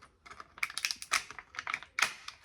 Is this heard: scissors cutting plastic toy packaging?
yes